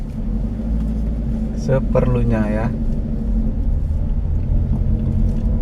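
Manual car held on a hill in stop-and-go traffic as the clutch is slowly released to its bite point, with a steady low engine rumble and slight added gas, while a voice talks briefly over it.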